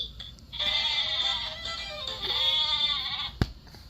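A single sheep lets out one long, close, wavering bleat lasting about three seconds, ending with a soft thump, with no voices present.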